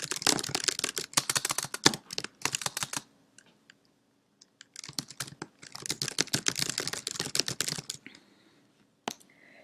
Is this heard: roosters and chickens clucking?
no